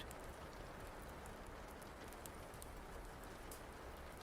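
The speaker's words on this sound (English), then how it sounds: "Outside, the rain continues its gentle melody." Gentle rain falls outside a cabin as an even, soft hiss that holds steady for several seconds. It is quiet and continuous, with no voices.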